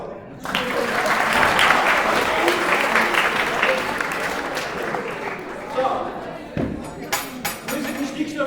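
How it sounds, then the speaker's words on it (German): An audience at an award show breaks into loud, sustained applause, a dense clatter of clapping that swells and slowly thins out, with a few thumps near the end. "Ein Applaus."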